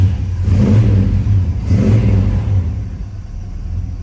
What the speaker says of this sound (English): Today we're going to start up our 72 Chevy Monte Carlo.